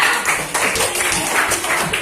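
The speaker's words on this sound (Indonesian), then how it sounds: "tepuk tangan untuk kelompok 3" A short burst of scattered clapping from a small group of children in a classroom, brief and fairly close.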